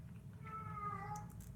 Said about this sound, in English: there goes my cat meowing